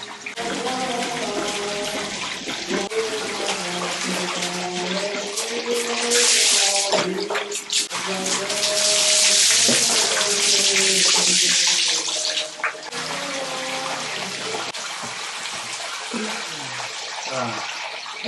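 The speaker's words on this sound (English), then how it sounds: "the water starts flowing. Boom! This fills up" Tap water gushes loudly and steadily into a village bathing tub in rural Indonesia, with a person talking over the rushing flow throughout.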